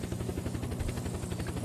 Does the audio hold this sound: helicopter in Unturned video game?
yes